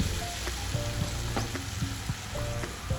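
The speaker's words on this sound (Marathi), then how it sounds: "ही मुगाची डाळ मी आता चांगली परतवून घेणार आहे" Soaked moong dal sizzles and crackles in hot oil with spices and asafoetida while it is stir-fried. The frying hiss is steady and close, broken by the scrape and clink of a stirring spoon.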